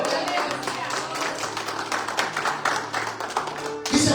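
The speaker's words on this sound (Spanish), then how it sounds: "Den un aplauso al Señor." A church congregation applauds for the Lord, a dense, continuous wash of clapping hands sustained for several seconds at steady loudness, with a brief swell near the end.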